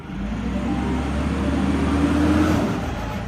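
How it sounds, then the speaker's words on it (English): A garbage truck rumbles outside a window early in the morning, its heavy, steady low engine drone holding at an even level throughout with no speech. "That heavy, rhythmic rumbling you hear outside your window at 6 a.m.?"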